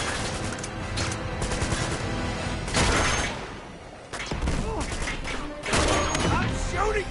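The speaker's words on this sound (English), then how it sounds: "Stop shooting me!" Enemy gunfire in Uncharted 2, with repeated loud volleys of automatic fire in several bursts mixed with game sounds, and someone talking over it.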